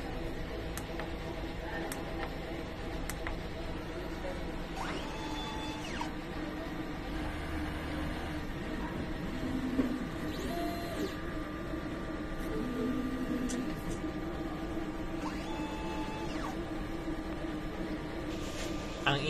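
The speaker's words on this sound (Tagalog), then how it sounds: "Nozzle test." An inkjet printer runs a nozzle test, a steady low mechanical hum with repeated soft ticks and clicks as the print head moves back and forth, fairly quiet and continuous.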